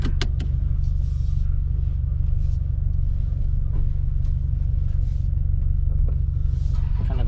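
Deep, steady exhaust rumble from a car fitted with FTSPEED unequal length headers, a continuous low drone held loud and close throughout with a few faint clicks on top, no talking.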